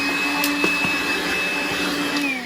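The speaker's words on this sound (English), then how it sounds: "And then I'm just vacuuming it out." A vacuum cleaner runs steadily, pulling debris out of a floor tile patch with a constant whining drone and brief rattles as bits are sucked up, close and loud with no talk.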